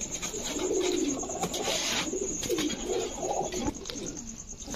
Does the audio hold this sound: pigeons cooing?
yes